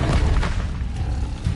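A booming fiery Incendio spell blast in Hogwarts Legacy, a loud low rumbling burst that fills the whole moment with a sustained roar and small flares of crackle.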